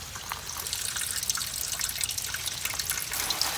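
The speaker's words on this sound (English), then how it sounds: "we just popped our cap so it can breathe. And our coolant's coming out." Coolant draining out of a Jeep with the radiator cap removed, a steady close trickle and patter of liquid splashing continuously without pause.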